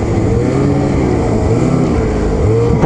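A 2021 Ski-doo XRS snowmobile with an 850 E-TEC engine runs at steady high revs, a loud, close, continuous buzzing drone with little variation.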